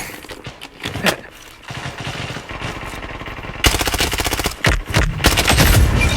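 Rapid automatic gunfire in the shooter game Blood Strike comes in sustained bursts and scattered single shots, loud and close, with a burst near the end that runs for over a second.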